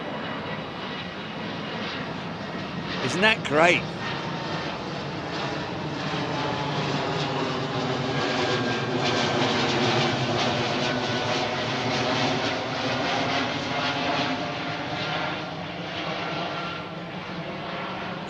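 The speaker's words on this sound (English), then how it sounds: "I wanted to show you an underside shot of the E2 jet." An Embraer E2 jet departs overhead at London Heathrow, its engine roar loud and broad and sweeping in pitch as it passes, with a brief remark spoken partway through.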